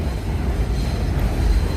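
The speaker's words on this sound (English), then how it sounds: "That's a D train that I'm going to take." A New York City subway D train rolls in at a Brooklyn station, a loud continuous low rumble and roar with no distinct squeals or breaks.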